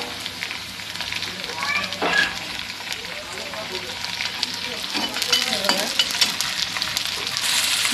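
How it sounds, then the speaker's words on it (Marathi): Chopped onion sautéing in a pan, a steady close sizzle and crackle of frying with occasional stirring scrapes, continuous for the whole stretch with no talk over it. "छानपैकी असा कांदा आपण परतून घेऊया."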